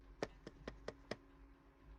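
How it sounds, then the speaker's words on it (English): Five quick, light knocks on a Ouija board, evenly spaced in about a second, followed by quiet. The taps sound close but soft against a low background hum. "Knocking on the Ouija board isn't the only way he shows disrespect."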